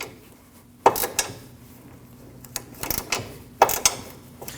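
A wrench turning the nut on a front sway bar link of a 2003-2008 Subaru Forester, a few sharp metallic clicks and ratcheting bursts separated by quiet pauses, close by with no talking.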